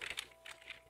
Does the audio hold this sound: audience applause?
no